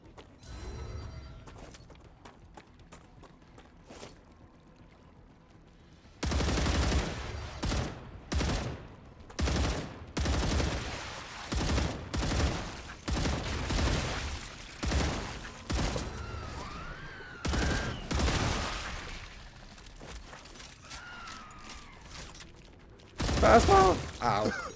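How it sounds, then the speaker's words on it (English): Rapid bursts of enemy gunfire in the sci-fi video game StarRupture, loud volleys and clattering shots coming in repeated clusters over a steady mechanical background, with someone talking now and then. "How are they shooting without seeing me?"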